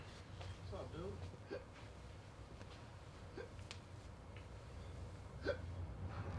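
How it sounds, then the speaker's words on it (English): Hiccups in a Pepsi Max soft drink commercial, several short sharp hiccup bursts spaced out over steady background noise, fairly close and moderately loud. "You want to kill your hiccups, don't you?"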